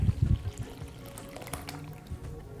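Yeast-and-water mixture poured into the center of flour for cinnamon roll dough, a short splashing, trickling pour up close at the start that settles into a quieter wet patter.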